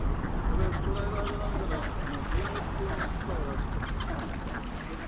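Ducks quacking and honking in a noisy outdoor crowd beside Lake Inawashiro in Fukushima, Japan, with people chattering and a constant busy background throughout.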